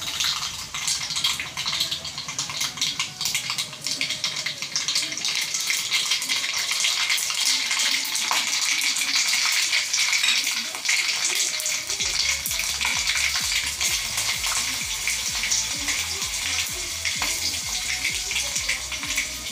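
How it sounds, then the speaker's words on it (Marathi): Tempering of mustard seeds, cumin, asafoetida and green chilli frying in hot oil for khaman dhokla, a steady close sizzle with crackling pops that grow busier partway through, no speech. "आपण आता याची फोडणी तयार करूया।"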